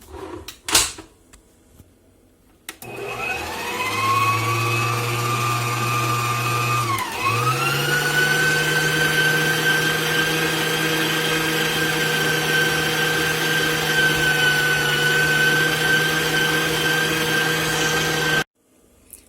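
An electric mixer beating cheesecake batter with lemon juice and vanilla extract, a loud steady motor whine that starts abruptly, dips briefly once, then runs continuously before cutting off near the end.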